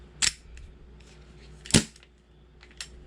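Two sharp snaps from a Jag Arms airsoft pistol firing, well apart, with a fainter click near the end, indoors and fairly close.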